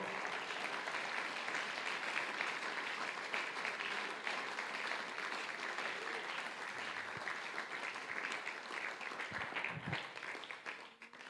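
A congregation at a men's church congress applauds, with sustained dense clapping from many people that keeps going and fades slightly near the end.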